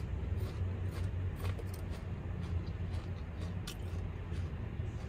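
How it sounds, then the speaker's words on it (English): Los Angeles morning street traffic heard from inside a parked van: a low, continuous rumble of passing cars and buses with faint clinks nearby, steady and moderately distant. "Traffic."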